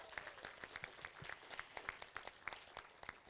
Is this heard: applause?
yes